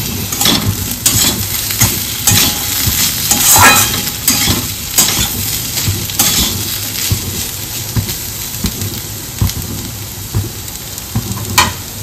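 Potato slices for aloo bhaja sizzle and fry in hot oil in a pan, with repeated scraping stirs of a spatula and occasional clinks of utensils, close and continuous with no talking.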